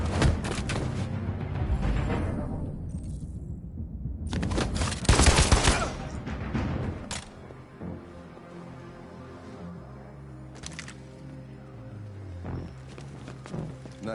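Game gunfire in Detroit: Become Human: a dense burst of loud close shots opens, with another heavy volley around the middle, then fades into lower ambient rumble and scattered impacts.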